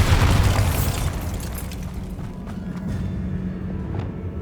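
A Bombarda spell explosion in the Hogwarts Legacy video game: one loud, heavy boom at the start that rumbles and fades into a sustained low roar, with no talk.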